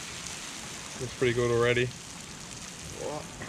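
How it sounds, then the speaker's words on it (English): Beer-battered gummy shark pieces frying in hot oil give a steady, close hiss and crackle like rain, continuing under a man's brief speech. "So drop the fish in. Start to cook."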